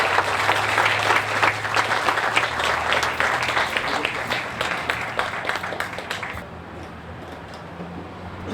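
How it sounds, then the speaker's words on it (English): An audience at a McAllen school district Texas Independence Day event bursts into loud, dense applause, then the clapping thins and fades toward the end. "let's give everybody one big round of applause."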